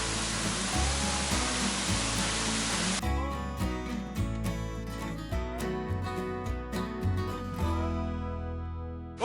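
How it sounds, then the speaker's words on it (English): A waterfall beside a campsite on the Appalachian Trail gives a loud, steady, dense rush for about three seconds before music abruptly takes over. "Not only do I have an epic waterfall to look at over there"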